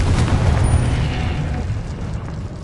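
A Confringo explosive spell blast in Hogwarts Legacy bursts with a loud, rumbling boom that decays slowly over a few seconds of dense noise; no voices.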